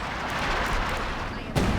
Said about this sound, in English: Run, Sniper, you're walking into the artillery. Oh, here comes another round.